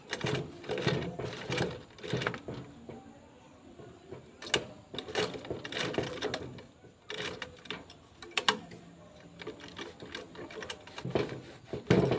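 A sewing machine back stitches a fabric bag, running in loud, close bursts of rapid mechanical stitching broken by brief pauses and the clunk of the lever as direction reverses.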